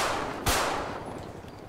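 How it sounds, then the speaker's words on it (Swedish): One sharp gunshot cracks out midway through a GTA video game police chase, then its echo fades slowly behind a quiet backdrop with no talking. "Han skjuter."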